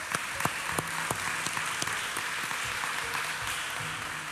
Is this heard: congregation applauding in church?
yes